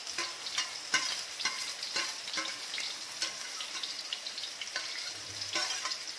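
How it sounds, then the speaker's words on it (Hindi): Chopped onion and garlic fry in a pan for chhole, a soft continuous sizzle broken by regular scraping stirs, close but quiet, with no speech. "ये प्याज और लसन असी ये पाता"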